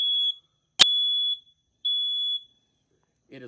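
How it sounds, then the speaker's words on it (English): Three long, high-pitched electronic alarm tones, loud and close, separated by pauses, with a sharp click between the first two and faint noise at the end. "If the smoke alarm ever goes off, it'll sound something like this."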